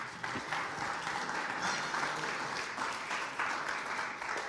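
A church congregation applauds together, a steady dense wash of clapping that stays loud and continuous throughout with no voices over it.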